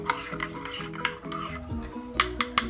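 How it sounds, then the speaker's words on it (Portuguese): Spoon stirring a cornstarch mixture in a pan for a chicken cream dish, scraping and clinking against the metal in quick repeated strokes, with a few sharper taps near the end. "Mexo."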